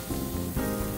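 Beef and gizzard suya sizzle loudly as they cook, a dense, continuous crackling hiss up close with brief surges of spitting fat and no voices.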